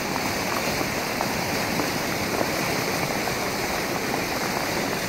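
A flash flood's leading surge roars down the Santa Fe River in Santa Fe, New Mexico, near a footbridge, carrying sediment and debris; a steady, dense, close rush of churning water fills the whole stretch without pause.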